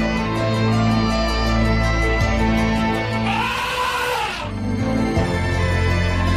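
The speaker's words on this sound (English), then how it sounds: "That's the sound of an elephant." An elephant trumpets through its trunk in a loud, wavering, brassy blast over a steady, droning background.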